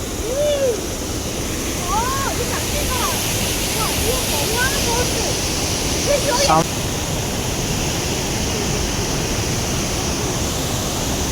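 Water rushes in a loud, constant roar, like a waterfall close by, with voices faintly audible over it.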